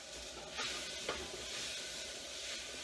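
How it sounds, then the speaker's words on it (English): Onions and carrots are stirred in a pot, giving a couple of soft spoon scrapes over a quiet, steady hiss of gentle cooking. "Give this a quick stir."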